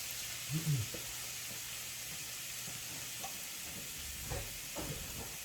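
Steady, faint sizzling hiss of meat frying in a pan, continuous throughout with a few soft clinks and brief murmurs in the background.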